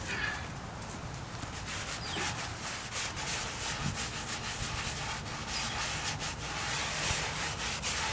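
A brush scrubs a marble headstone from 1884 with continuous, close rasping strokes at a steady pace.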